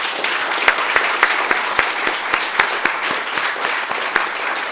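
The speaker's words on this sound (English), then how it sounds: "let's give him a round of applause" Steady applause at a school district board meeting, honoring a student athlete with many hands clapping together in a room, dense and sustained for several seconds without speech over it.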